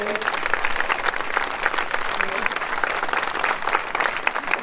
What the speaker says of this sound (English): So please, one more time, round of applause for the gentlemen.